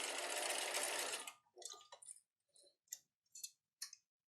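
A sewing machine stitches rapidly back and forth over elastic on a backpack, a close continuous whir for about a second, then several short separate bursts with brief pauses between them.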